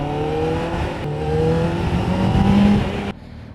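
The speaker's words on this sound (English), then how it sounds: "it still doesn't give you that sound of revving 4 cylinders" A Kawasaki ZX7R four-cylinder motorcycle engine revs hard and close, its pitch climbing through sweeping rises before cutting off abruptly near the end.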